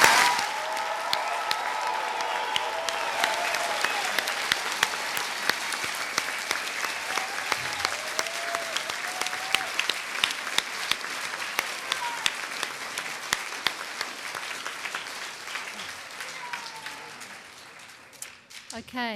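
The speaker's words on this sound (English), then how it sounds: "Please put your hands together for the hundreds of students who have graduated this year." A large audience at the NMIT 2015 Nelson graduation afternoon ceremony claps long and steadily for the year's graduates, a dense roar of hands with a voice speaking over it early on, then fading near the end.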